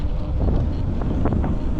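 Steady, loud wind buffeting a microphone outdoors, a continuous low rumble with no voices.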